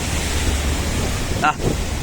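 Sea waves surge and wash around a small boat in choppy water, with steady wind rumble on the microphone and a brief voice exclamation near the end.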